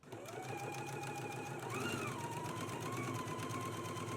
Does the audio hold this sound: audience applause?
no